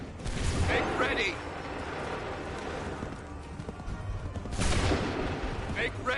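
Musket volleys crack out in two bursts in Assassin's Creed 3 battle scene, over a steady background of clattering hooves and commotion.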